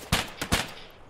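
Gunfire in the video game Escape from Tarkov, on the Woods map: three sharp shots in about half a second, the second and third close together, each with a short echoing tail, heard alone.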